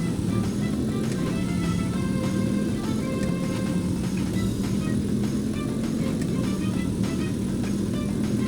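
The Quip car in Roblox A Dusty Trip drives along with a steady droning engine hum at constant volume, with no pauses and no talk.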